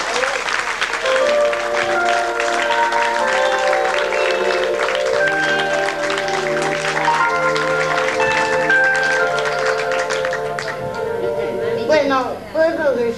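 A family gathering celebrating a woman's 80th birthday breaks into sustained clapping that lasts several seconds, with voices ringing out over the applause.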